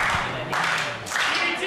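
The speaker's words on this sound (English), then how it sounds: "The crowd is banging and banging right now, trying to get behind Gangrel" A wrestling crowd claps and bangs in support of Gangrel, producing bursts of rhythmic clapping and pounding under a commentator's voice.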